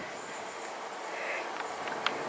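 A Freightliner Class 90 electric locomotive running light engine rumbles steadily at moderate distance in London, broadband and droning, with a few faint high squeals near the end.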